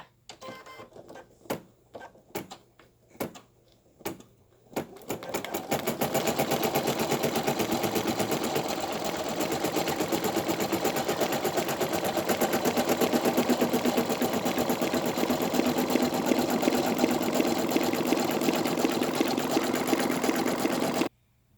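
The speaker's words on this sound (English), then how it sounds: "I am stitching on a Baby Lock Flourish 2" A Baby Lock Flourish 2 embroidery machine stitches on clear vinyl, first with a few separate loud mechanical clunks, then a fast continuous rattling needle rhythm that runs steadily for about fifteen seconds before stopping.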